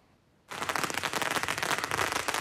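A long string of firecrackers hung from a crane in front of a temple bursts suddenly into loud, dense, rapid crackling pops that continue without a break.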